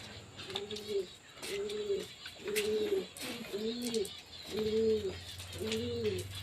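Domestic pigeons cooing close by in a regular series of six soft, rounded coos spaced about a second apart, with a steady low background hum and no talking.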